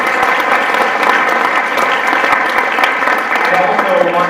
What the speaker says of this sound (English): I think we should turn it on them and give them a round of applause.